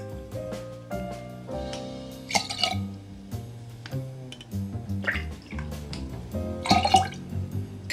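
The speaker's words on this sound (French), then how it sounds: "On va mettre ensuite donc du rhum Malibu. Donc là, je vais mettre du 6 centilitres." Malibu rum is poured for a clarified Piña Colada, with liquid dripping and trickling alongside light glass clinks and a few scattered bumps, close and fairly quiet throughout.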